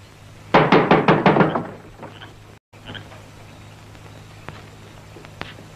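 A rapid volley of loud, close knocks strikes a wooden house door, then stops; a quiet stretch follows with only a couple of faint isolated taps.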